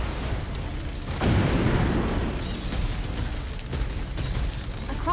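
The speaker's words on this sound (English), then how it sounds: "This might be a good use for a grenade." A grenade explodes in the video game Synduality: Echo of Ada with a single loud boom. A rumbling burst follows over steady in-game background noise.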